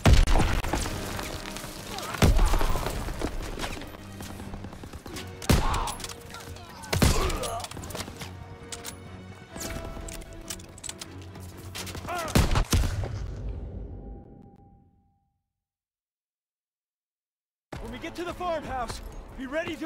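Machine-gun fire and battle noise in the Call of Duty WW2 D-Day beach landing: repeated heavy bursts and sharp impacts over a dense combat din with shouted voices, then a sudden cut to silence before the noise resumes.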